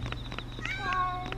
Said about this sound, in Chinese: 小猫